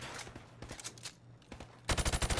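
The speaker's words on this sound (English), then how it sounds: "I want to see you fire from the hip." Video game gunfire in Melon Playground, fired from the hip in irregular bursts of rapid shots, ending in a fast, loud, even stream of automatic fire.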